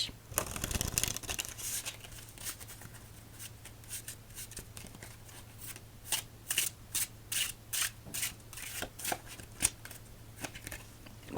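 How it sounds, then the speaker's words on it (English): Playing cards shuffled for a game of solitaire, close and crisp, in repeated riffling bursts with short gaps between them, quiet and with no talking. "2 more shuffles after that and begin our first game."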